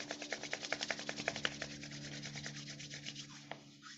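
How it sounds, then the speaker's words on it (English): Hands rub briskly together close by, a fast rhythmic swishing of skin on skin that slows and fades over a quiet low hum. "Rub your hands, warm yourself up a little bit more,"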